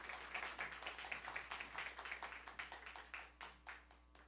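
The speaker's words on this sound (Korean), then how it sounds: "다시 한번 큰 박수로 축복하겠습니다" A church congregation claps during a Sunday service, with fairly quiet, even, rhythmic claps that thin out toward the end and no voices over them.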